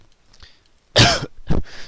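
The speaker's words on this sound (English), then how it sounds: "Little cough there" Two sharp coughs close by, the first harsher and longer, the second shorter, following a quiet breathy pause.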